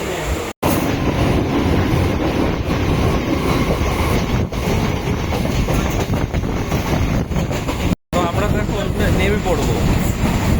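Loud, continuous rumble and rattle of a moving train, with dense rhythmic clatter filling the whole stretch, heard from inside the carriage.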